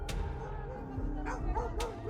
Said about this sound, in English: hunting dogs become loyal allies, tracking the scent and driving the boars straight into the trap